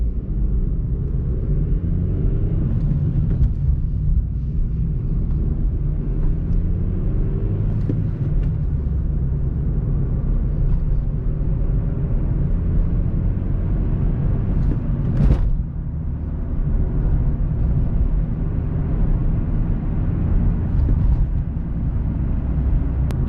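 Interior of a manual transmission car driving along a country road, a steady low engine and road rumble with tire noise throughout, fairly loud and close, with a brief sharp knock or bump partway through.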